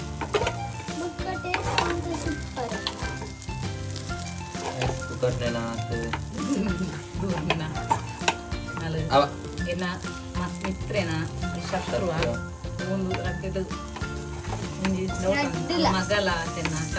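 Basale leaf dough cooks in oil in a hot pan, giving a steady close sizzle broken by occasional scrapes and clinks of a utensil, while a person talks over it.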